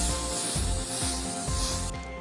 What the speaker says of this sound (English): non-stick cooking spray again.